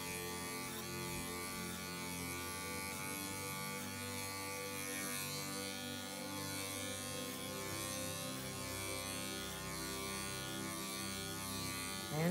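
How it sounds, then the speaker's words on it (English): Electric clippers buzz steadily as they shave down the side of a dog during a field trim grooming, a constant close motor drone with no talk over it. "So we're gonna start shaving down the side here."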